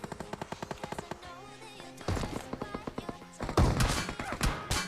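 Video game gunfire: rapid evenly spaced shots in a burst, then heavier louder shooting and impacts, all close and dense with no pause.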